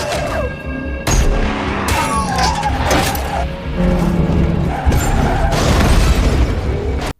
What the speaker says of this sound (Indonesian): Danny pun langsung membanting setir menghindari dengan penuh amarah.